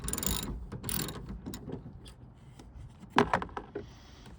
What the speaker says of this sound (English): We'll just tighten it a little bit.